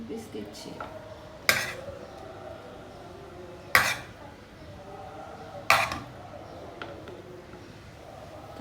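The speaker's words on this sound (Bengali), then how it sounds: "তারপরে হচ্ছে আঙ্কেলের জন্য কোফতা বেড়ে নিচ্ছি এখানে।" Pots and cutlery clink sharply three times, spaced a couple of seconds apart, as kofta curry is served into dishes in a home kitchen, with quiet background between the clinks.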